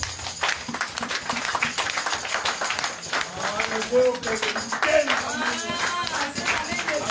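A church congregation claps and cheers loudly in rhythm during a French-language service. Brisk, continuous hand claps mix with raised voices and sung or shouted tones over several seconds.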